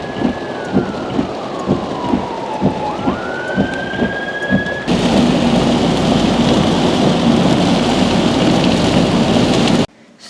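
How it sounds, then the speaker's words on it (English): Steady heavy rain from Hurricane Harvey pours loudly in the evening, with rhythmic thumping and a siren-like tone sliding in the first half, then a dense unbroken downpour before it cuts off. "as it continues to rain outside this evening"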